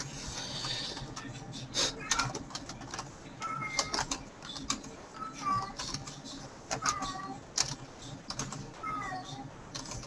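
An upset house cat meows repeatedly at mid distance, faint cries recurring over a steady bed of computer keyboard typing and room noise.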